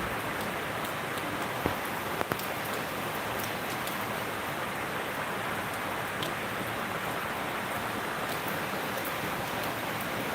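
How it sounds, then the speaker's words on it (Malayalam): Heavy rain pours down steadily, a dense continuous hiss of drops drumming on surfaces with no letup. "ഇവിടെ നല്ല മഴ കേട്ടോ രാവിലെ തന്നെ നല്ല മഴയാണ് അതിഗംഭീര മഴയാണ് പെയ്തുകൊണ്ടിരിക്കുന്നത്"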